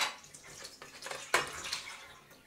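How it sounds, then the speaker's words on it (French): Cherries draining in a kitchen for a Black Forest cake, juice trickling and dripping with small splashy spurts and one sharper splash midway, close and quiet. "on peut déjà égoutter nos cerises afin qu'elles ne soient pas trop trempées quand on va les mettre dans le gâteau"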